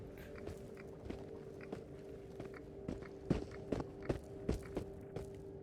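Footsteps in the video game Into the Radius tread at a steady pace and grow louder and closer midway, with distinct thuds over a constant low droning hum and no talking.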